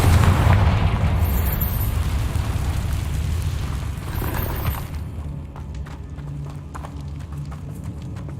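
A Confringo fire spell bursts in Hogwarts Legacy, a loud broadband boom that rolls on in a dense, sustained rumble before easing into a quieter, scattered tail of crackles.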